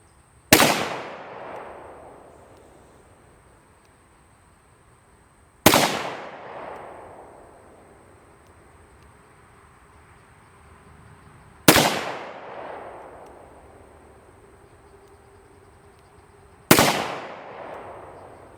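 Four loud, separate shots from a Ruger SP101 .357 Magnum revolver with a 3-inch barrel, firing hot 148-grain jacketed hollow point loads outdoors. Each sharp crack is followed by a long decaying echo, with roughly five seconds between shots.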